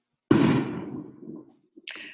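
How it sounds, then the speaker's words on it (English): A single sharp firework bang outside in Mexico with a decaying rumble tail, followed by a faint pop and a second crackling burst, heard distantly over a quiet room. "Those are not gunshots, those are fireworks."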